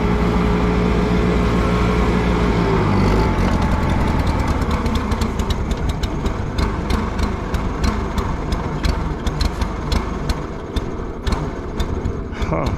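An Allis Chalmers G tractor engine is started in cold, snowy weather on a blueberry farm. It cranks with a steady whine, then catches and runs at a loud, close, rough idle with rapid, even firing pulses.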